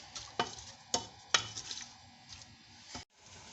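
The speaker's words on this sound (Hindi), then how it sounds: "प्याज को मैं गोल्डन ब्राउन कर लूँगी। फिर मैं इसमें लहसुन और अदरक डालूँगी।" Onions frying to golden brown in a pan for chana gosht: a soft, steady sizzle broken by several sharp clacks of a spoon stirring against the pan, fairly quiet and with no talking.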